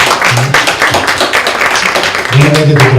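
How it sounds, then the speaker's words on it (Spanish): Audience applause at an academic talk, a dense burst of many clapping hands with a voice speaking over it. "Démosle un aplauso para aquí, para calentar un poquito el ambiente"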